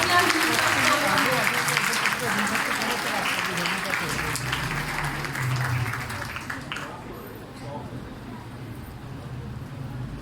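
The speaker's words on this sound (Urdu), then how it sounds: "آپ سب کی بھرپور تالیوں میں شازیہ یوسف کوٹ کمبو" Audience applause fills the hall at a Women's Day seminar in St. Ignatius Parish, Samanabad, a dense, loud clatter of clapping that thins and fades after about seven seconds.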